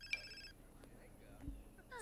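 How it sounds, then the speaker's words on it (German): A mobile phone rings in The Sims 4 life-simulation game, a brief, faint electronic ringtone burst near the start, then quiet game ambience with low sounds. "Oh, Mathildas Handy klingelt."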